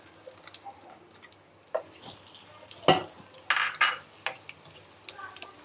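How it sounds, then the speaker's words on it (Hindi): Two medium chopped onions dropped into half a cup of hot cooking oil in a kadhai, giving a soft sizzle with scattered crackles and a few louder splashy bursts near the middle. "ऑयल ऐड करते ही हम इसमें शामिल कर देंगे 2 दरमियाने साइज़ की कटी हुई प्याज"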